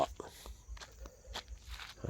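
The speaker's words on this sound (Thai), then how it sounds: "เดินตรวจตราไปเรื่อยๆนะครับ" Footsteps on a night patrol away from home on a silent, dark night: steady, close, rhythmic footfalls with soft scuffs between them.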